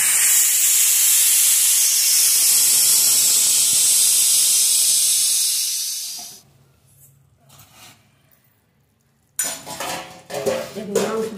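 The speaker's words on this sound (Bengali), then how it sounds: "এখন প্রেসার কুকার খুলে নিই।" A pressure cooker is opened after cooking goat meat, releasing a loud, steady rush of steam hiss for about six seconds that then cuts off, followed by quieter kitchen clatter and bubbling.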